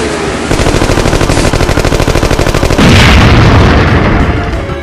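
Rapid gunfire rattles through a Lego animation car chase, a loud, fast machine-gun stream of evenly spaced shots over a roaring backdrop, intensifying into a heavier burst near the end, with no talk.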